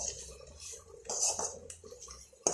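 Moringa leaf masala being sautéed in a pan, with soft scraping and light metallic clinks from stirring, a few sizzling bursts, and one sharp clang near the end, all close and fairly quiet.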